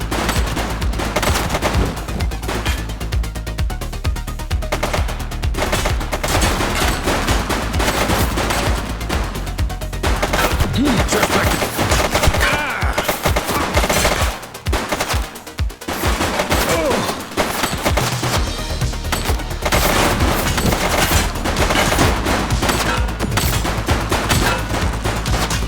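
Sustained bursts of automatic gunfire from a police shootout in The Precinct rattle on loudly and almost continuously, briefly thinning mid-way before resuming at full intensity.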